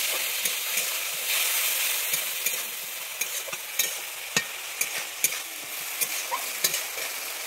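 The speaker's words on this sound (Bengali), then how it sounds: "দিয়ে আমি এটাকে একটু ভালোভাবে নেড়ে নিচ্ছি" Rui fish and potato curry sizzles steadily in a pan while it is stirred, with repeated scraping taps from the utensil against the metal. The sound is close and fairly loud, and no one speaks.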